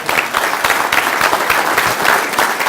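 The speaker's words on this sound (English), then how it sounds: "let's give him a round of applause" A touchdown club audience bursts into sustained applause, dense clapping from many hands continuing steadily and loudly throughout.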